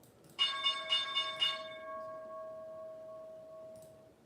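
A stock market opening bell rings in a series of about five quick, loud metallic strikes, then one clear tone hangs on and slowly fades over several seconds, with no talk over it.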